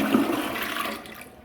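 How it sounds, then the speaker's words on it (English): Glacier Bay Power Flush toilet flushing at home, a close, steady rushing gush of water that tapers off toward the end with no voices. "I'm going to give it a flush."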